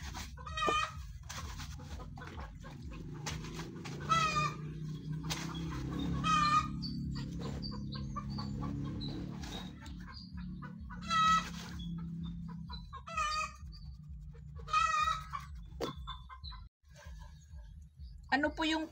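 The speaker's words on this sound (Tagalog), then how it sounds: "Nangingitlog yata na ano manok sa likod." A hen clucks repeatedly in short bursts close by, with a low rumbling background and people talking in between.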